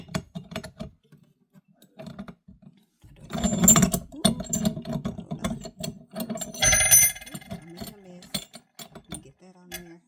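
A metal plate is fitted and aligned onto a meat grinder while making deer burger, giving close, irregular clinks, clicks and rattling metal knocks that come in scattered bursts, with a brief louder jangle midway and quiet pauses between.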